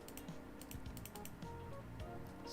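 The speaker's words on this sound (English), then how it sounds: "Or was it because I'm clicking?" Rapid, irregular keyboard and mouse clicks at a computer while building a 3D game, close and fairly quiet, running steadily throughout over a low background hum.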